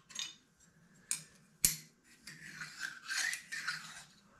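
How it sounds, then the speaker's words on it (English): Fine knife-edge file drawn across metal in draw filing, quiet close scraping strokes in a few separate passes, one with a sharp click, without speech. "more or less draw filing like this"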